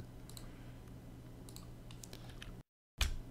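Computer keyboard keys and mouse clicks tap lightly and irregularly during AutoCAD drawing work, faint and close, ending in a brief silence and one sharper click.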